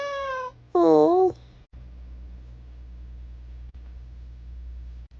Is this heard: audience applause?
no